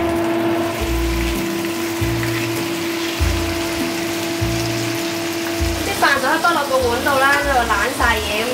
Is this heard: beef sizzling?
yes